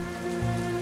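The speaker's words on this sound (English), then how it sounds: "The night sky pours down rain like it has a personal grudge." Rain falls on pavement at night in the World of Goo 2 video game, a steady hiss of rainfall under a sustained tonal musical drone, brief and with no voices.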